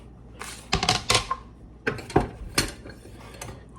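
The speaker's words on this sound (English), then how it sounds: "let's get a knife out now" Cutlery clatters in a home kitchen as a knife is pulled out, with sharp metallic clinks and rattles in two quick bursts separated by a pause, fairly close against a quiet background.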